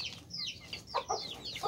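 Brahma chickens cluck in a few short, close calls over a steady low background hum, with soft chirping from chicks at a feeding area.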